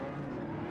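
Race-car engines roar in the Forza video game as the cars pass a Lamborghini, a brief, steady, close engine drone with no talking.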